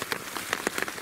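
Steady rain pours down at the flooded old Sawayama Tunnel in Shiga Prefecture, a dense, continuous hiss with distinct individual drops spattering nearby throughout.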